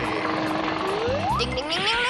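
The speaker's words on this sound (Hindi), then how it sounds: "चलो उस हेलीकॉप्टर को पकड़े" Cartoon helicopter in flight, a steady whirring rotor drone with rising whistle-like tones and low thumping, loud and close throughout.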